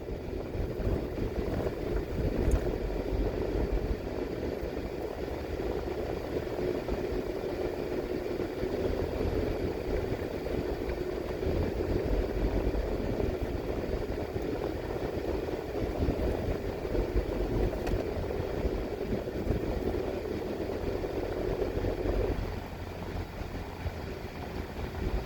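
Car engine driving along Glenmuir Drive into the town of May Pen, Jamaica, a steady low rumble of engine and road noise that runs continuously and evenly throughout, with no voices.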